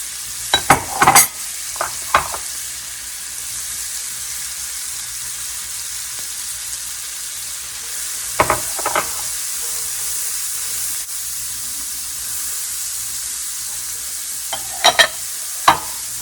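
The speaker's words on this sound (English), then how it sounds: "I'm going to add those to this pan on low heat to all that yummy bacon fat" Chopped sweet onion added to a pan of bacon fat on low heat, a constant soft frying sizzle with a few sharp clacks and stirring scrapes near the start, middle and end, with no talk.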